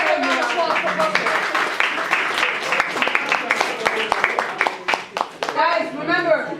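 A crowd at a live show claps and cheers in a steady burst of applause, with a few whoops and voices rising over it near the end.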